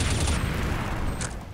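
Dense, rapid gunfire in CS:GO, a continuous burst of loud overlapping shots from a match, with a brief sharper crack near the end.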